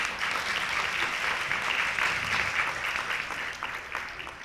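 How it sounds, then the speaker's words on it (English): A warm round of applause from a conference audience greets panelists at an international summit on AI supply chain resilience, dense and steady clapping filling the hall for several seconds before tapering slightly. "Please join me in welcome them with a warm round of applause"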